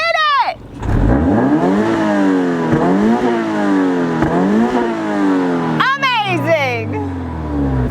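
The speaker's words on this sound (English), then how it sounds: "no video is complete without the exhaust test, especially when you have a vehicle equipped with a dual exhaust system" A 2020 Subaru BRZ Sport-tech RS with dual exhaust revs repeatedly, rising and falling in loud throaty sweeps, with a sharp blip at the start and another near the end.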